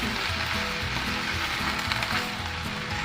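Pak Prae greens stir-fried in a hot pan for instant noodles, a steady loud sizzle that fills the whole clip, close up with no speech.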